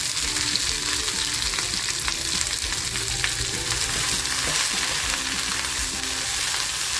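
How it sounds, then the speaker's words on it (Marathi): Okra pieces fry in a hot pan with only a little oil, giving a constant close sizzle with light crackles and occasional stirring taps throughout, with no talking. "आता ह्या तेलामध्ये आहे ना ही फक्त भेंडी टाकून फ्राय करून घेते"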